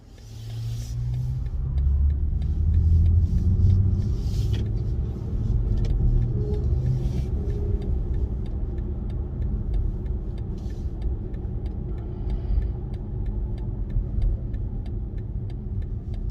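A 2022 BMW i4 eDrive40 electric car accelerates steadily on a highway with a low rumbling drone and road noise building and then holding, heard from inside, with no talking.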